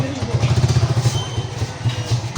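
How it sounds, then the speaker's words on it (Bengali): A motorcycle engine close by, with a low pulsing putter that throbs steadily and then eases. Voices talk over it. "আমাদের বাইক আসতেছে"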